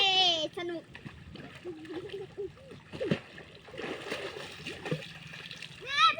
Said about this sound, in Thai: ก็อยากเล่นน้ำแอลเล่นน้ำเลยพามาเล่นน้ำ